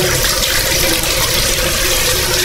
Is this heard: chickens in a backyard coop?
no